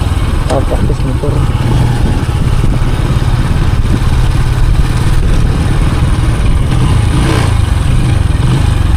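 Motorcycle engine while riding along a lakeside boulevard, a close continuous mid-pitched drone with wind buffeting throughout and occasional speech over it.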